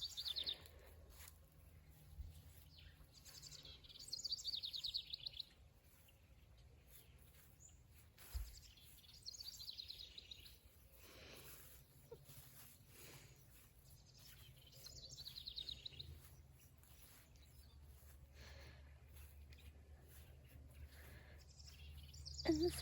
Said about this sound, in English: So you listen to the cute birdies.